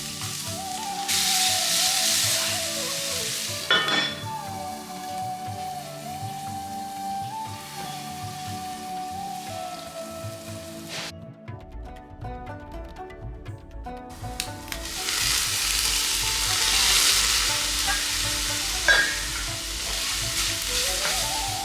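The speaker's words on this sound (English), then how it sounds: "I sauteed onions first" Onions sautéing in a pan for a beef curry, a continuous close sizzle with scraping stir sounds and a low hum in the background; the frying briefly drops off before resuming.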